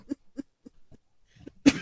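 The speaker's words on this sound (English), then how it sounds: "I laughed so hard I coughed" A person coughs in a few short, quiet bursts, then a louder cough or laugh breaks out at the end.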